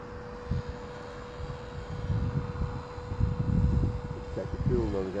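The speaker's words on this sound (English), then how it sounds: "That's an helicopter by there, look, right?" A radio-controlled Trex 600N nitro helicopter flying nearby, a steady thin engine whine holding one pitch throughout, with people talking and rustling over it.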